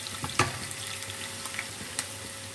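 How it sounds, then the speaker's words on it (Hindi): Onions cut into small pieces frying in hot oil, a steady soft sizzle with a few sharper crackles and pops, fairly quiet and close, no talking. "ऑयल में हम प्याज को फ्राई कर लेते हैं"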